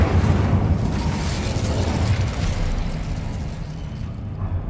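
The Incendio fire spell being cast in Hogwarts Legacy gives a loud, deep whooshing burst of flame with a rumbling low roar that gradually fades away, heard alone without speech.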